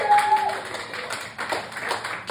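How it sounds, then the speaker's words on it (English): Audience at a comedy gig in Sheffield breaks into a round of applause and clapping, fairly steady and moderately loud, with some voices mixed in. "Big round of applause for Steve"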